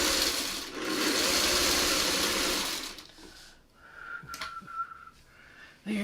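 Sewing machine running steadily and loudly as it stitches quilt block pieces for a triple shoofly block, then stopping after about three seconds, leaving quieter handling sounds and a faint whistle-like tone.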